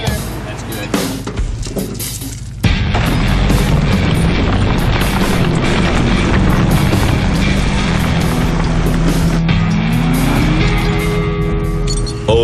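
A Ford F150 EcoBoost truck strains uphill dragging over 3 tons of dead weight up a 10% grade, a quiet start followed by a sudden loud engine surge that roars steadily, rising in pitch as it pulls, with talk over it.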